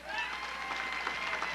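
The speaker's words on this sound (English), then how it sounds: "All this applause is for the subjects." A crowd applauds with brisk, dense clapping mixed with some cheering, fairly faint and brief.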